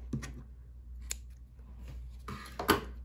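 Scissors snip through sky-blue crochet yarn while making a small rainbow keychain, giving two or three quiet, close cuts in an otherwise hushed setting.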